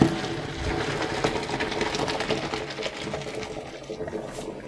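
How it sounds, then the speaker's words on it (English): Cooked farfalle pasta being strained, a steady wash of pouring water and wet noodles spilling through a strainer, close and continuous, with faint clinks of metal throughout. "my pasta is finished cooking, so I'm just going to strain that"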